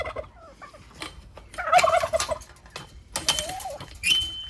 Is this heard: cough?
no